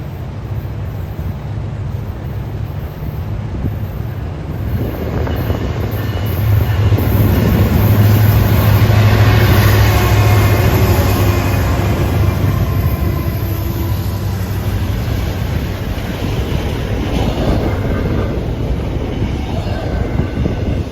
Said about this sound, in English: The freight trains combined and proceeded as well.